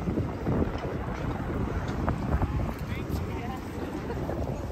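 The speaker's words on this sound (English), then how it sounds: "it's very windy out here as well" Strong wind buffeting the microphone with a constant low rumble, steady throughout with no pauses, outdoors at the Easter Parade in New York City.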